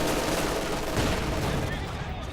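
A .30 cal machine gun fires in Company of Heroes 2, a dense, continuous battlefield clatter of rapid shots mixed with other gunfire, loud and unbroken throughout with speech-like noise in the mix.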